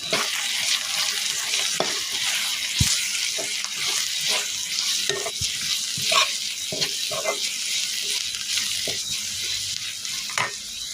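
Green chillies, curry leaves and onions frying in hot oil, a steady close sizzle with scraping stir strokes and brief clanks running throughout.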